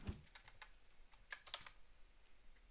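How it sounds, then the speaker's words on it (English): Computer keyboard typing during an online Carcassonne league match: a quiet, scattered run of individual keystrokes with short gaps, close and alone without any voices. "Robert also typing GG's in"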